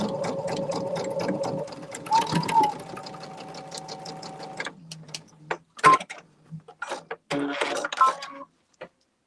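Home sewing machine stitching quilt block seams with a longer stitch length, a steady close whirring run for several seconds, then short stop-and-start bursts with clicks.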